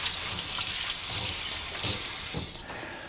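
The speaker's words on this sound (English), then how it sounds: "I'm going to wash my hands 1 second." Hands being washed under a running kitchen tap, a steady hissing water stream with splashes and rubbing, close, easing off at the end.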